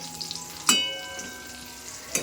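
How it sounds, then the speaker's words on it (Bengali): Pointed gourd (potol) frying in a pan, giving a soft continuous sizzle with a couple of sharp clinks from stirring. "আর এই যে এখানে হচ্ছে পটল ভাজা"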